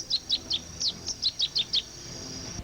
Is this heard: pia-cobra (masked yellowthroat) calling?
yes